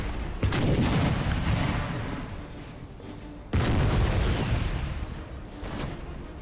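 Artillery cannon fire in the Napoleon Total War battle game, from batteries of 12-pounder and 9-pounder guns: two heavy booms, about three seconds apart, each followed by a long rumbling roll.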